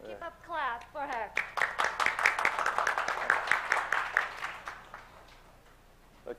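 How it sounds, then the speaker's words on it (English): Audience applause for a presenter at a joint global project event of Korea's creative economy innovation centers: a spread of hand claps running for several seconds beneath a speaking voice, then tapering off. "let's keep up clap for her."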